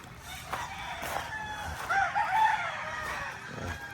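A rooster crows once at a farm where a large chicken coop is being built, its call rising and falling midway through over a steady outdoor hiss, fairly close but not loud.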